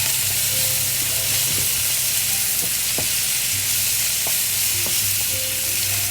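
A one-pan breakfast skillet sizzles loudly as it is mixed and fried, with a constant hissing fry broken by occasional utensil scrapes and taps against the pan.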